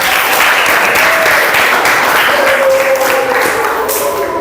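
A classroom of students applauding together at the end of a biology lesson, with dense, steady clapping that sounds near and loud and holds for the whole stretch.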